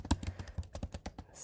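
Someone types a git command on a computer keyboard, a quick, uneven run of close key taps with no voice over it.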